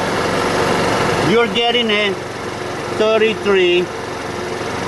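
A scooter engine idles steadily in the background, a constant low hum running beneath a voice.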